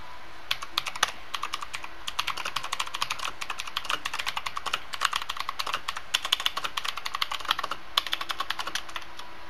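Fast typing on a computer keyboard produces a quiet, steady clatter of many rapid keystrokes in uneven bursts, close to the microphone, with no voices.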